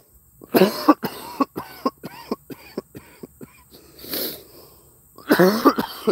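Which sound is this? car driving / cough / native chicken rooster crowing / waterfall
cough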